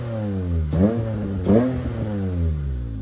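Honda J35 V6 swapped into a Mazda Miata revs twice in quick succession, each rise bringing a sharp VTEC intake howl before settling back to a smooth, fairly quiet idle drone.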